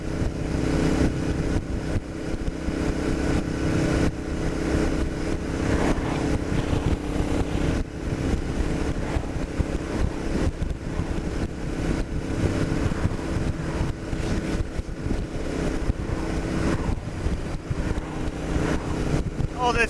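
A Royal Enfield Interceptor 650 motorcycle with a small bikini fairing cruising at the speed limit under 4,000 RPM, its steady engine drone buried in constant heavy wind rush.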